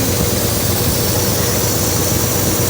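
A 1969 Corvette C3 big block V8, a garage find revived after nine years of sitting, running steadily with a deep, even rumble and a throbbing low-end vibration, close and loud.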